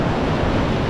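Solid four-foot ocean swell breaking along the edge of a reef, heard as a steady, broad roar of surf with wind rushing over it and no distinct individual wave crashes.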